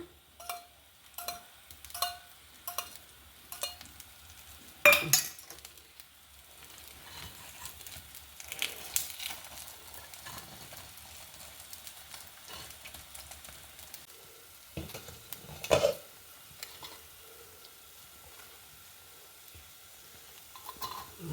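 Paddu batter cooking in ghee in a pan, with a soft steady sizzle and repeated clinking stirs and taps of a utensil, louder knocks near five and sixteen seconds; no talking.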